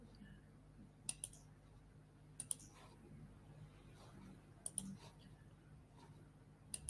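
Faint mouse clicks at a computer as extra browser tabs are closed, in small clusters of two or three a second or so apart, over a quiet room hum.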